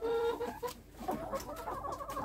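Chickens, including Golosheyka, Dominant, Orpington and Hungarian breeds, cluck and murmur close by in a coop in a steady, busy chorus, with a few sharper calls rising over the low background.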